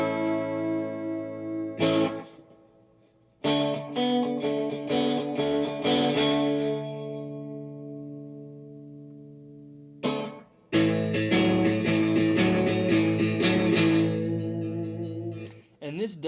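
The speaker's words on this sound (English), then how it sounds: "And this does have a touch of echo and a touch of overdrive" A Monoprice Indio Classic electric guitar on the bridge and middle pickups with light echo and overdrive, strummed chords ringing out in bursts with pauses between, close and clear.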